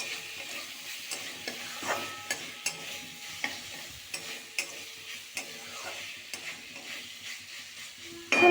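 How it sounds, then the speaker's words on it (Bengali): Soaked chana dal is stirred into fried spice paste for a vegetarian cabbage dish, with a steady sizzle of frying under repeated scraping strokes of a spoon. "ছোলার ডালটা দেওয়া হয়ে গেলে খুব ভালো মতোভাবে মিক্স করতে"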